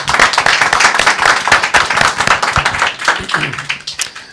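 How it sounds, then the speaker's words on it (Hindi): A church congregation gathered for a prayer meeting claps together for the Lord, dense, steady applause close by with hand claps filling the room throughout, no speech over it. "एक बार अच्छी ताली बजाए प्रभु के लिए"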